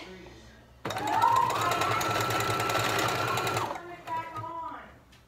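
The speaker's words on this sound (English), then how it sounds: "I like to backstitch and sew it a few times, makes it a little bit stronger" A sewing machine stitches a dog harness strap in a fast, steady mechanical whir lasting about three seconds, then stops, with a voice speaking before and after the run.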